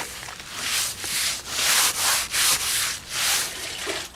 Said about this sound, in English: Just rub the cement in there. Make everything look the same. See that? Just go over it with the sponge.